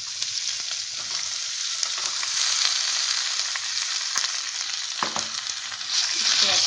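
Pumpkin pieces frying in a pan, a dense steady sizzle with spatula stirring scrapes and a few knocks, close and continuous.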